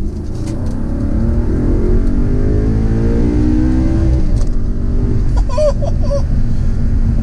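A 2011 Audi R8 Spyder's V8 roars loud and close as it accelerates on a highway, the revs climbing steadily in one sustained pull with a brief shift-like break midway.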